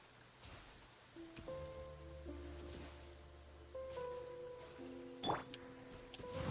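Soft, steady rain falls in the video game Genshin Impact, a quiet hiss of drops under gentle sustained musical tones, with one brighter splash near the end.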